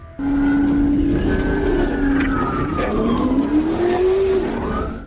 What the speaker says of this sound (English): approached a black car spinning wildly in circles, right in the middle of a busy intersection